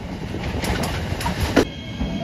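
A JR Shikoku 7200 series local electric train runs on the Yosan Line near Marugame Station, a loud, close rumble with wheel noise and a brief squeal partway through.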